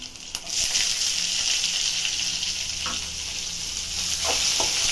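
Onions hit hot oil in a pan for poha upma and burst into a loud, continuous sizzle that holds steady, with a few stirring clinks and no talking.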